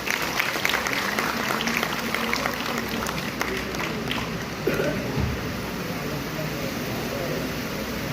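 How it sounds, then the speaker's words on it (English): A physiotherapy conference audience in a hall gives a sustained round of applause, dense even clapping that holds steady at moderate loudness with a brief swell midway. "I should request you people to please give some more round of applause."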